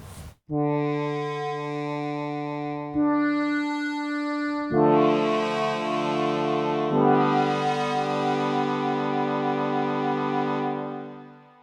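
A polyphonic synth plays a series of held chords, each swelling and decaying under its envelope. The notes come one after another at moderate loudness before a final fade, with no voices.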